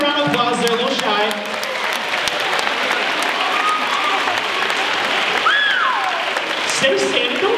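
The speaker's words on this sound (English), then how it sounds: "Girls, give them a round of applause" Sustained, dense applause from an audience of girls cheering for the guys standing at an event, loud and steady throughout with crowd noise and faint whoops mixed in.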